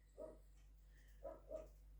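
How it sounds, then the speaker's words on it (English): Three short, faint barks from a dog some distance away, one alone and then a quick pair, over a steady low hum. "there's old Roxy barking"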